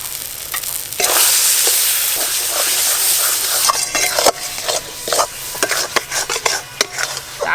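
Spices and chopped tomato fried and stirred in a pan for a village-style fish curry, a steady loud sizzle with repeated scraping and clinking of a spoon against the pan.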